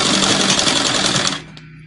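Sewing machine running fast as it joins the two-piece sleeve of a blouse, a loud, steady buzzing whir for about a second and a half that cuts off abruptly, leaving a faint hum and one small click.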